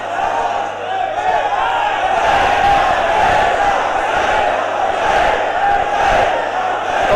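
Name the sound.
crowd chanting Labbaik slogan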